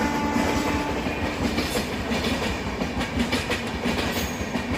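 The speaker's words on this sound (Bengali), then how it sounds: "ট্রেন যাচ্ছে পাঁশকুড়া স্টেশন।" A train rolls past on the line toward Panskura station during flooding, a steady loud rumble of wheels with rhythmic clickety-clack throughout and no voices.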